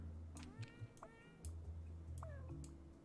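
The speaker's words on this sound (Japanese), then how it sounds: "新しい猫を見つけたこの子はフルフ" Cartoon cat meows from a cute cat puzzle game, two or three short, faint mews over quiet background game music.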